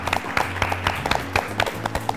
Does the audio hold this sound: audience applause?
yes